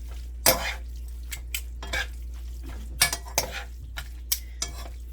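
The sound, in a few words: stirring beef with perilla oil in a pan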